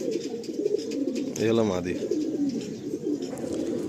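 Tournament pigeons in a loft, a short burst of cooing with a rolling, pulsing call rising out of steady background murmur, while someone speaks nearby.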